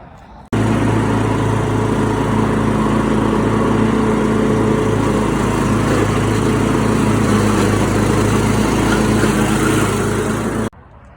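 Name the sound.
lawn mower mowing a chicken run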